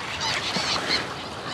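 A flock of seagulls calls over the central beach at Anapa on a cold December day, with overlapping harsh honking cries that sound close and fairly loud against a steady windy wash.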